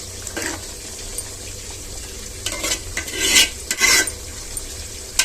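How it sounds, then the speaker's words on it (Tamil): A spoon stirring rice and meat together in a pot for one-pot biryani, giving a steady scraping, gritty rub with faint sizzling underneath and a few louder strokes toward the end, close and without talk. "அரிசியும் கறியும் இப்போ ஒன்றா மிங்கிள் ஆகணும்ல, அதனால் நல்லா கிண்டி விட்டுடலாம்"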